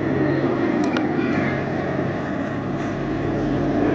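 Four aerobatic aircraft of the Patrouille Groupe Trenchant formation fly at the Air Legend airshow 2024, with a loud, steady engine roar filling the whole stretch and no distinct passes.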